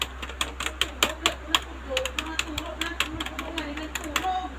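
Rapid, uneven clicking of keys being typed on a small mini laptop keyboard, close and fairly clear, with irregular bursts of taps and a low steady hum underneath.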